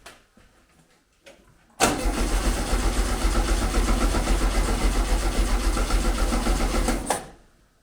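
A VW Beetle with an EFI conversion cranking as it tries to start, a few faint clicks and then a loud, steady starter grind lasting about five seconds before cutting off, without catching.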